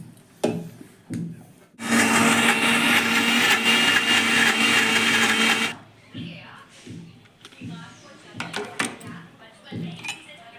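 An electric grinder whirs loudly for about four seconds, churning a paste of soaked chickpea and lentil, bracketed by clinks and knocks of the jar and utensils; someone talks before and after.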